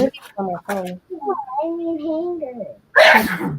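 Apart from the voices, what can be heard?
sneeze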